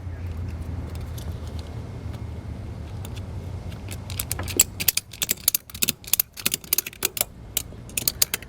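A ratchet strap on an Erickson ATV E-track tie-down is cranked tight, giving a series of sharp, close clicks in an irregular rhythm after a low engine-like rumble fades out.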